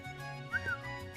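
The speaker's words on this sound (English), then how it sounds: "It's hard to whistle whenever I'm smiling." A character whistles in The Legend of Heroes: Trails into Reverie, a short rising-then-falling tone over steady game background music, brief and fairly clear.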